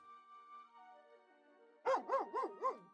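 A dog in a fantasy role-playing video game gives four quick, close barks in a steady rhythm, breaking in after a stretch of soft, sustained game music.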